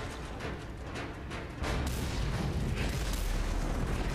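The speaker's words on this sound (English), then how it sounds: "Oh, big explosion." A big explosion in the Mad Max video game, a broad roaring blast that swells and rumbles steadily for several seconds, loud and close.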